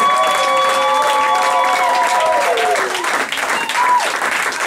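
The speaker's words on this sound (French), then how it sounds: "Est-ce qu'on peut acclamer très fort pour la gloire de Dieu?" A church congregation at a Sunday worship service applauds loudly and steadily, with cheering and voices calling out over the dense clapping.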